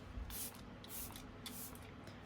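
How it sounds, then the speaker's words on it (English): Three short pumps of Morphe Luminous setting spray misted onto a face during a makeup routine, each a soft airy hiss close by, evenly spaced with quiet pauses between. "we're just getting in with a bit of that Morphe Luminous Setting Spray"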